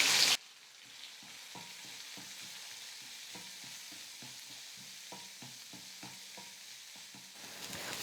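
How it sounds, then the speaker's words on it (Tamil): Onions sautéing with a little salt in a pan for an evening snack, a steady soft sizzle running throughout while a spoon scrapes and stirs in a quick, repeated rhythm, close and fairly quiet. "பாருங்கள் ஃப்ரெண்ட்ஸ், வெங்காயம் வந்து நல்லா வதங்கி வந்துருச்சு"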